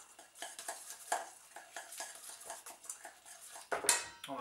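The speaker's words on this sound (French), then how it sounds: "on va mélanger un petit coup" A utensil stirs beef tartare in a bowl in a restaurant kitchen, giving repeated close clinks and scrapes against the bowl in an irregular rhythm, with a sharper burst of clatter near the end.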